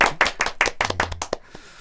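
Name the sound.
people clapping hands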